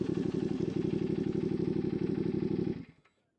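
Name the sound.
CFMoto 450ss motorcycle engine cutting off as kickstand goes down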